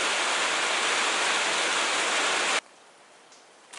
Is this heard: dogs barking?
no